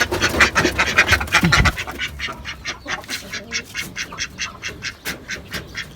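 Ducks on a rooftop garden quack loudly and close by, first in a dense overlapping burst, then in a rapid, regular series of sharp quacks.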